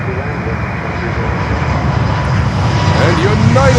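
A United jet airliner arriving from Houston at Miami International Airport, a loud continuous engine roar that swells gradually over several seconds, close and steady.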